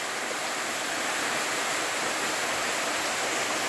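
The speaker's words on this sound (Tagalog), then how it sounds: "So napakagandang waterfalls." A waterfall pouring steadily, a dense even roar of falling water with no pauses, close and loud throughout.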